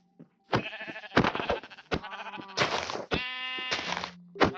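Several sheep bleat in a Minecraft game world, a run of loud, wavering bleats following one another closely across the clip with only brief gaps between them.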